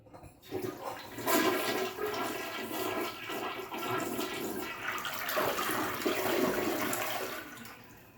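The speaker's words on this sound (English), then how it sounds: "we're gonna go ahead and flush this toilet to see how it works" A toilet flushes right after a CO2 automatic plunger has cleared it, a loud steady rush of water sustained for about eight seconds with no talking.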